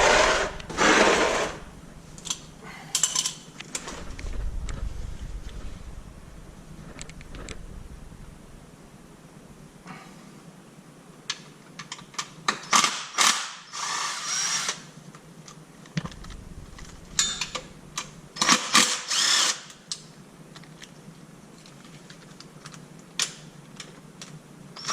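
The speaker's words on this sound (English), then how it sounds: "Remove all the screws, all the 10mm screws," A ratchet clicks rapidly while 10mm screws are backed out of the automatic transmission pan on a 2015-2017 Cadillac Escalade, with bursts of close, dry ticking separated by quieter pauses.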